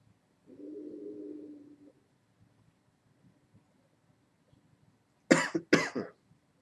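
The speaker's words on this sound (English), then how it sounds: "There's no reason to cough there." Two sharp coughs in quick succession near the end, close and loud, after a soft low exhale of vapor from a vaporizer earlier and otherwise quiet.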